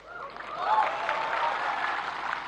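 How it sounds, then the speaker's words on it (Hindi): An awards ceremony audience, men among them, breaks into applause: steady, moderately loud clapping that swells within the first second and then holds as a dense, even patter. "लेकिन मैं देख रहा हूं पहली बार पुरुष ताली बजा रहे हैं"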